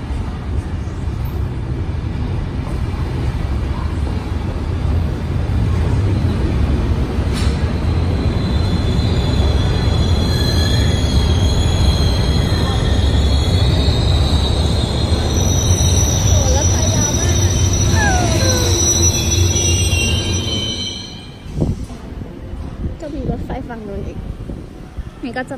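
A train rides on the rails during a trip around Basel. A steady, loud rumble runs throughout, with high wheel squeals rising mid-ride, then the noise drops away sharply near the end while faint voices murmur in the background.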